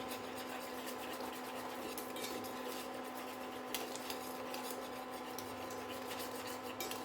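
Continuous rubbing and scraping of a spoon stirring milk with dissolved custard powder in a pan on an induction cooktop at low to medium heat, steady and close, over a constant electrical hum.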